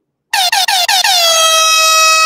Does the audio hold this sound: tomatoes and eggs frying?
no